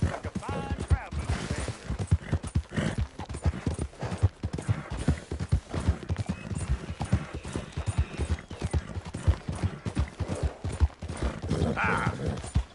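A horse's hooves clip-clop steadily and close by in the Red Dead Redemption 2 video game, a busy rhythmic patter that continues throughout, with mechanical rattles in the background.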